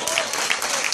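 A festive crowd claps at a Christmas 2017 party in Dajabón. Brief, fairly faint applause with a busy, hissy texture throughout.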